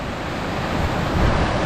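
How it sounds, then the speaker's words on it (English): Water pouring over the top of Morialta waterfall in a conservation park near Adelaide, a steady close roar with some wind buffeting the microphone and no talking. "this is the top of the waterfall here"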